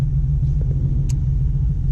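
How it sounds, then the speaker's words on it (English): A group of Ford Mustangs drives past at a Florida S550 meet, giving a loud, steady low engine rumble with no talk. "Here comes a boatload of Mustangs."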